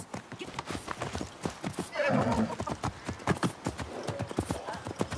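Horses in Assassin's Creed Mirage, set in Baghdad, clop steadily with hooves and give a neigh partway through, heard close under speech and game sounds.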